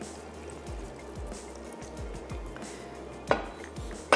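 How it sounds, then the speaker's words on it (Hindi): Water is poured into a blender holding peas, green chillies and spices, a thin trickling fill with a few soft splashes and one sharper clatter near the end, with no talking. "थोड़ा सा ऐड कर देते हैं पानी।"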